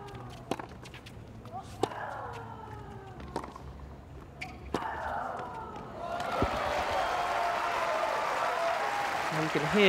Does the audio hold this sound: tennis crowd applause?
yes